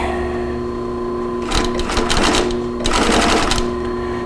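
A lightweight leather sewing machine stitches through a stack of six leather pieces, running in two short mechanical bursts of rapid, rattling needle strokes over a steady motor hum, close and loud with no talking.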